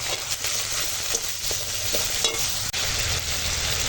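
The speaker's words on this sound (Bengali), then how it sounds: "মশলা কষানো হয়ে গেছে" Chili powder and turmeric powder sautéing with cumin in a pan, a close, steady sizzle with a few soft stirring scrapes and one brief dip near the end.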